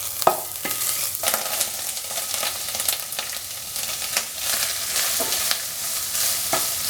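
Ginger and garlic frying in hot oil in a pan, a continuous loud sizzle broken by repeated scraping strokes of a spoon stirring, close up with no talking.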